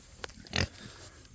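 Pigs on a farm during an evening tour give a short snort and a louder, breathy grunt, close and fairly faint against quiet outdoor background.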